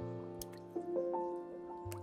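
Cereal pieces dropped from above fall into a bowl during an at-home cereal commercial shoot, landing as a few separate light taps and patters over a soft sustained musical background.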